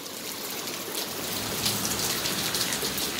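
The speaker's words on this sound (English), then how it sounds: "Look at all that rain." Heavy rain pours down in a dense, continuous hiss, loud and steady, with no voices.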